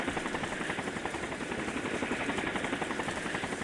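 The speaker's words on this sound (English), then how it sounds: "Bloodhound members continued to slide down the rope from the helicopter." Steady, loud helicopter rotor chop in the Higurashi video game, a rapid even thudding beat with broad whooshing noise held throughout, no talking.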